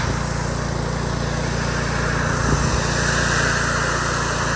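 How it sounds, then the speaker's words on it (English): A pressure washer engine runs loud and steady while washing a rubber mobile home roof, a continuous close mechanical drone with a brief irregular patch midway. "This is the best way to wash a rubber roof because you can use the pressure washer"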